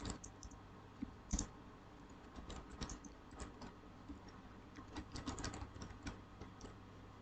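Clicks and ticks of keys being tapped on a computer keyboard while entering a command in an operating systems exercise, a quiet irregular run of light strokes throughout.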